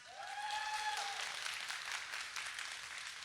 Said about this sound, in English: Can we get a round of applause for Pishy Fat?